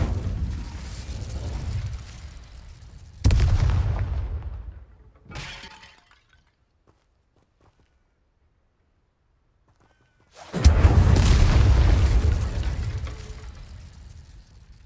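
The Incendio fire spell in Hogwarts Legacy on PS5 bursts out in loud crackling, shattering blasts, with a few separate eruptions split by a long near-silent gap before a final roaring burst that fades out.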